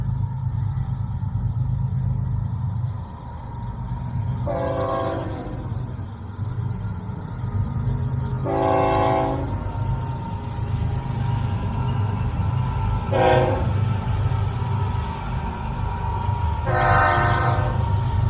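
Florida East Coast Railway freight train 202, over 15,000 feet long and hauled by GE ES44C4 locomotives with a liquefied natural gas fuel tender, crosses the Crane Creek Bridge, its steady rumble joined by four separate horn blasts.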